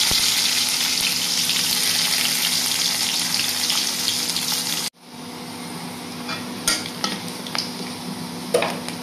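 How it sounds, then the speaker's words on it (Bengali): Loud, steady sizzling of oil in a hot wok for about five seconds, then a sudden drop to quieter crackling with a few clinks and scrapes. "কড়াইটা গরম হয়ে গেছে, তেল দিয়ে দিই।"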